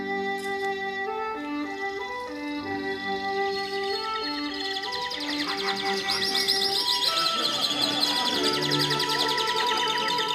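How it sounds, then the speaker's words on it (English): Trained birds chirping on a music album, their tweets and calls layered over sustained musical tones, with a dense flurry of high chirps building in the second half at moderate loudness. "Listen to those trained birds. It's just chaos."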